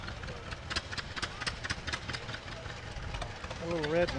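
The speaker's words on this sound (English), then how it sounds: "they race these antique tractors, but they race them to see who can go the slowest without stalling out" Antique tractor engines idle and putter through a slow race where drivers try to go slowest without stalling, a steady mid-distance rumble with faint knocking pulses and voices talking over it.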